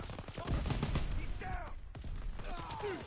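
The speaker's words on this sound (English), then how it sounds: "Shot in the back like John Dillinger" Call of Duty video game gunfire crackles in quick bursts through the whole stretch, mixed with other game sounds and with a voice talking over it.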